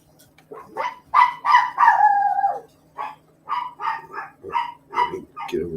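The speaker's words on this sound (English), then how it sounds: "Sorry, my dog's going nuts." A dog barking excitedly at close range, a rapid string of loud, uneven barks and yelps with a drawn-out whining bark in the middle, over a faint steady hum.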